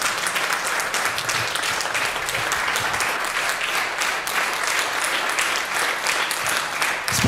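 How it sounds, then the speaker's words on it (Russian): Sustained applause from a grateful audience at a museum concert evening, a dense steady clapping that fills the room without a break for the whole stretch, loud and close. "Цветы под аплодисменты нашей благодарной"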